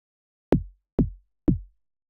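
Synthesized kick drum from a One Synth drum and bass patch in Logic, played dry without effects: three evenly spaced, short thuddy hits separated by silence.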